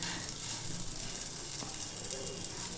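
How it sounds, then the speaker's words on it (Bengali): A steady, fairly quiet sizzle of food frying in a pan over a low-to-medium flame, a continuous hiss with faint crackles throughout and no voices. "একটু লো টু মিডিয়াম ফ্লেমে এটাকে একটুখানি সময় নিয়ে ফ্রাই করতে হবে"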